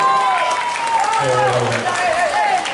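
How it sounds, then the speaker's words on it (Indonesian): Audience applause at an Isra Mi'raj commemoration gathering, a dense steady wash of clapping lasting a few seconds, with voices and a sustained tone running over it. "Tepuk tangan dulu untuk laki-laki"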